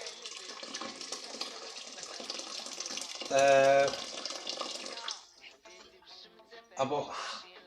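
Water running from a tap into a cooking pot to cover lentils for Moroccan lentil stew, a steady close splash with a louder filling burst in the middle, under and between spoken talk.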